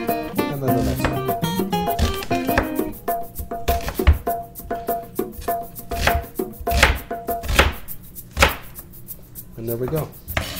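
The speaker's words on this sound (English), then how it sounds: "we're just going to give it a couple of chops across" A knife chops coarsely across ingredients on a board for penne rustica, with a string of sharp, irregular thuds close to the mic and a few softer movements between the cuts.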